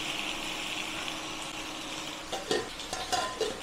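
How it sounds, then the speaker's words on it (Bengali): Pomfret masala being mixed in a pan, a soft sizzle underneath with a few scraping stirs and light clinks of a utensil near the end, close and without talk. "ভালো করে মিশিয়ে নেবো।"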